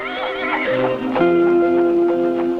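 A horse whinnies loudly nearby, a drawn-out wavering neigh that rises and settles.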